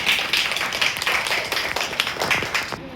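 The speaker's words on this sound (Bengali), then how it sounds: "তাই করতালির মাধ্যমে তাকে স্বাগত জানাই।" An audience at a Rabindra Jayanti school celebration claps to welcome a poetry reciter, a steady patter of many hands at moderate distance lasting a few seconds.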